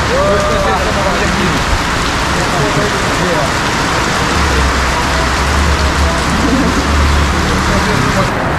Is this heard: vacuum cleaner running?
no